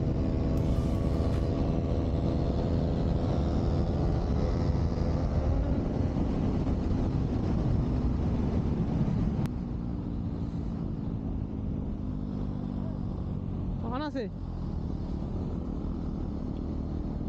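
KTM Duke 200 and 250 motorcycles drag racing in fifth gear: a loud, steady engine drone with shifting harmonics throughout, and a brief rising whine near the end.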